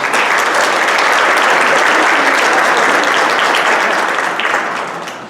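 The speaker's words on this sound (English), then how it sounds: "Can you please give them a round of applause?" Loud, sustained applause from a college scholars induction ceremony audience, thick continuous clapping that holds steady for several seconds before tapering off at the end.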